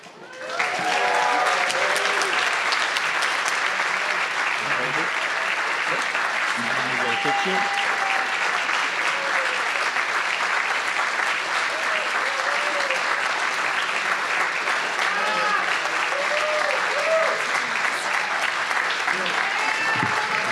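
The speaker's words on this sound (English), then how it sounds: "Keep those applause going." Sustained applause from a school assembly audience at a homecoming event, steady and dense clapping filling the room for about twenty seconds, with scattered voices and cheers mixed into the crowd noise.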